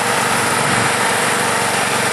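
A small engine powering a wood gas battery charger runs steadily during break-in, a loud, continuous high-revving drone held below wide open throttle.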